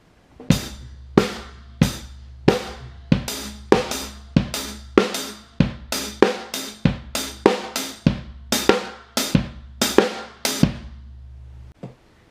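A drum kit plays a quick cymbal pattern accented on the fourth sixteenth-note partial, with bright, crisp cymbal strikes over low kick thumps in a steady, slightly uneven rhythm, close and clear, no talking, ending with a brief pause and a final hit.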